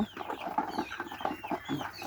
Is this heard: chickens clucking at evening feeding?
yes